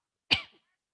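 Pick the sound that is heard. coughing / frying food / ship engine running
coughing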